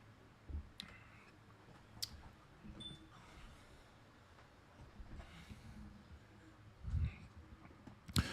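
Sparse keyboard typing during severe thunderstorm warning coverage comes as scattered, fairly quiet clicks and taps spread across the stretch, with a few sharper keystrokes near the end, close by, with no voices.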